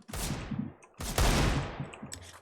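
Two booming AWP sniper rifle shots in a video game, each a sharp crack with a long rolling tail, about a second apart.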